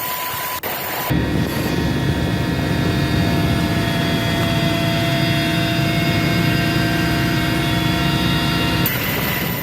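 Indonesian Air Force aircraft readied for waterbombing forest and land fires in Kalimantan give a loud, steady engine roar that runs unbroken for about eight seconds, with no talk.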